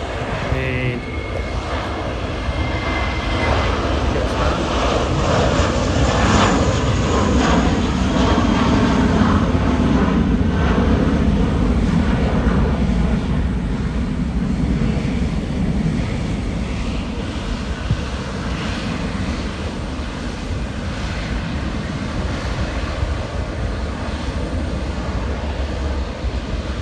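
Delta and China Southern Airbus A350-941 airliners taxiing along the bay toward runway 34L give a steady, broad jet-engine roar that holds for the whole stretch, mixed with some wind buffeting on the microphone.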